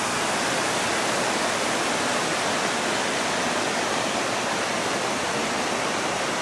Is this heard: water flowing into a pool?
yes